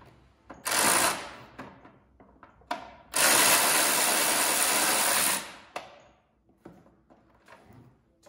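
A power tool spins Allen screws out of the handlebar plastic on a BMW K1200LT motorcycle, giving two loud buzzing bursts, one brief and one sustained for about two seconds, among scattered clicks and handling taps.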